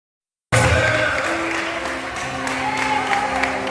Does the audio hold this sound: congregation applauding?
yes